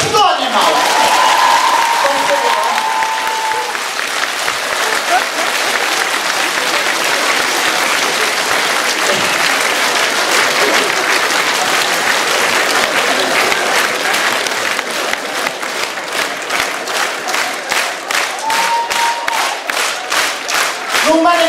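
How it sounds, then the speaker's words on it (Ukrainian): A concert crowd in Kalush keeps up loud, sustained applause mixed with cheers and shouts, rhythmic clapping emerging toward the end, while voices call out over it. "зробіть йому аплодисменти"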